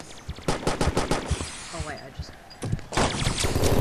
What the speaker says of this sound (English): we took a shotgun blast and a grenade to the face